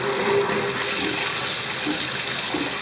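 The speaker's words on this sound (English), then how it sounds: "I flip on my cold water all the way and my hot water just a little bit" Tap water gushes through an Aqueon aquarium water changer hooked to a faucet with cold fully open and hot slightly open, a steady loud rushing hiss that continues unbroken.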